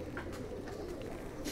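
Quiet, low cooing comes from a ferozpuri faqeergull mix-breed pigeon kept in a home loft, soft and muffled, with no speech.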